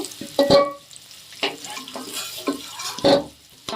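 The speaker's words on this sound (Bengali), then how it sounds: "আলুটা একটু ভালো করে লাল লাল করে ভাজতে হবে" Potatoes fry in a pan under a continuous low sizzle, while a spatula stirs and scrapes against the metal in a few distinct bursts.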